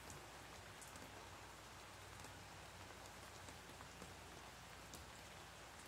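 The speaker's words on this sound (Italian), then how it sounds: "La pioggia è perfetta per meditare." Steady rain falling and pattering on surfaces, a continuous even hiss with scattered drop ticks, soft and unbroken, alone with no voices.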